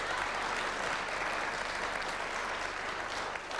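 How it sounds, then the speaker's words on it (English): A television debate studio audience breaks into loud, dense clapping that holds steady throughout, a continuous wash of many hands with no speech over it. "Questioner seems to be applauding that"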